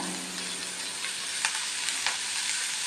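Ingredients sautéing in a pan give a continuous soft hiss of frying with a few faint clicks of stirring, close and moderately quiet, no talk.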